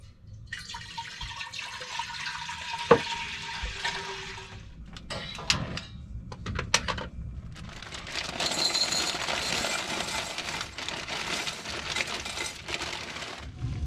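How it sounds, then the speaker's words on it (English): A pot of water for egg noodles churns at a rapid boil, bubbling and splashing in uneven bursts with occasional metallic clinks against the pot, close and fairly loud. "my water is at a rapid boil, so I'm going to put my noodles in."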